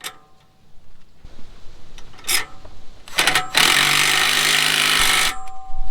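A small Milwaukee power tool strains against a stout nut while installing a Falcon steering stabilizer on a 2021 Jeep Gladiator Rubicon: short broken bursts, then a louder sustained grinding whir of about two seconds before it quits, with no talk.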